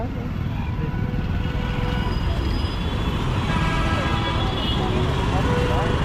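Road traffic heard from a Hero Splendor motorcycle during a Rapido ride on a city street, with constant engine drone and wind rumble and passing vehicles around, loud and close, while the rider talks over it.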